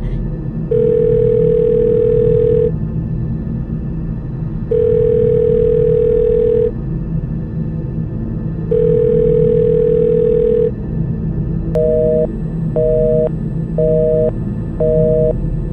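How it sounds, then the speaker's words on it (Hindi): A telephone call goes unanswered as three long, evenly spaced ringback tones sound over a low background hum, followed by a quicker run of four short double-pitched beeps, loud and close. "लेकिन फोन बजता रहा।"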